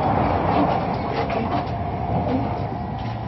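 A Shinkansen bullet train running in Japan gives a steady, continuous rumble and rush of wheels and motion, heard evenly throughout without breaks.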